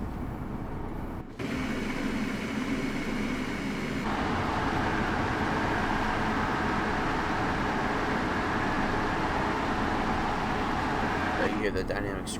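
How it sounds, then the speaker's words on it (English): An NJT ALP-46 electric locomotive's dynamic brakes whine in Train Sim World 3, a sustained steady roar with a raised high-pitched tone, heard beneath a steady rumble of rail noise. "You hear the dynamics screaming."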